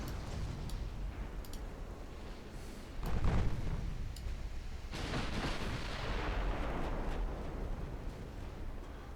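Naval gunfire at heavy cruisers in a video game sounds as distant booming salvos over a constant low rumble, with a heavier blast near the middle and scattered sharp cracks, and no voices.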